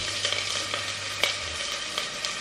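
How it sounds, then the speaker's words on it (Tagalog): Onion and garlic sautéing in a pan, a steady close sizzle and crackle with occasional sharper pops and stirring scrapes, continuous throughout with no voices. "ilagay ko muna, igisa ko muna ang ating sibuyas at saka"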